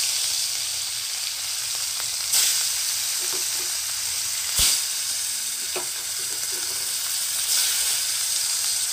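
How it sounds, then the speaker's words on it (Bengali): Pieces of katla fish sizzle in hot oil in a wok. The frying hiss is steady and close, with a few sharper crackles and pops, and no talking. "তো এবার আমি মাছগুলোকে এক এক করে কড়াইয়ের মধ্যে দিয়ে দেব।"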